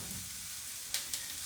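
Patty pan squash sizzling quietly in a pan, a steady faint hiss with a couple of brief louder crackles.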